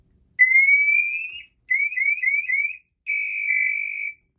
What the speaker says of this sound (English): Our pass alarm went off with the motion